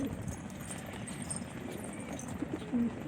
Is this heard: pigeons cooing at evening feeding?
yes